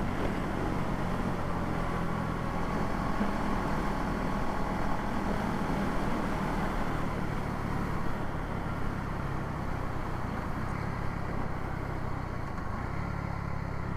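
A 2021 KTM Duke 390 with a Powertronic Fuel X module, airbox mod and slip-on exhaust runs in a steady, close engine drone that holds evenly throughout, with no talking.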